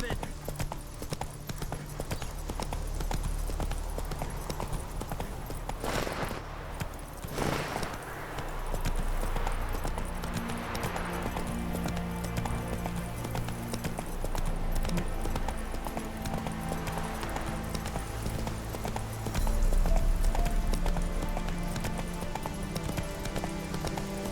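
In The Witcher 3 video game, the horse Roach clip-clops steadily across ground, the hoofbeats close and rhythmic, running under music and intermittent voices throughout.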